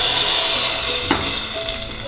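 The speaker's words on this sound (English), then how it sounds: "So I'm just stirring together the curry leaves and mustard seeds that we added to the dal." Curry leaves and mustard seeds tempered into dal make a dense, loud, continuous frying hiss, with one brief stir-scrape near the middle and no speech.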